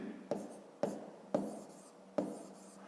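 Pen writing a math calculation on paper, four distinct scratchy strokes at close range, each a sharp tap followed by a brief rubbing trail, faint and otherwise quiet.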